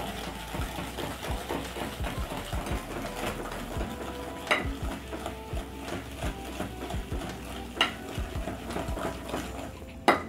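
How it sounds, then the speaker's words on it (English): Eggs and sugar being whisked together in a bowl for lemon poppy seed cupcake batter, a steady stream of quick scraping strokes with sharper clinks against the bowl. "I'll use my whisk and combine the sugar together"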